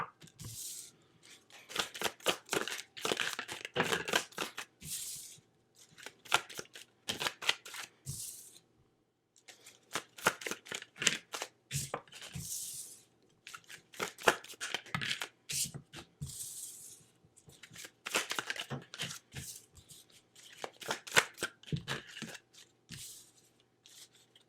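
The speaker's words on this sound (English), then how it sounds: "Just give me a minute to pull some tarot cards here" Tarot cards are shuffled and handled in repeated bursts of crisp riffling and flicking, quiet and close, with brief pauses between rounds and no talk.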